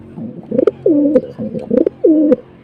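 Imported checkered pigeon with one gold eye cooing in a cage, a series of close, soft, rolling coos in rhythmic bursts with brief pauses between them, no talk.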